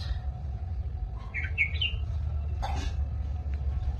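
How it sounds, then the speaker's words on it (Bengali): Birds calling outdoors, a few short bright chirps in a quick cluster followed by a single sharper call, fairly near, over a constant low background hum. "ওই পাখিগুলো ডাকছে"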